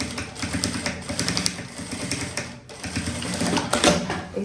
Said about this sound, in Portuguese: E vou costurar, vou passar aqui a costura.